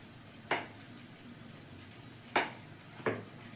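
A hot griddle heating for chapati gives a faint, steady sizzle and hiss throughout, broken by three sharp metallic clinks of a utensil against the pan.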